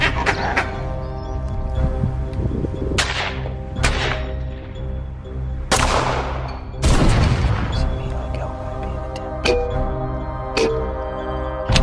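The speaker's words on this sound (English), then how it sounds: "the sound of gunshots echoes through the air" Loud gunshots boom and echo across an open South African landscape, several sharp blasts with long rolling tails over a dense, continuous backdrop of layered sound, including a heavy cluster around the middle.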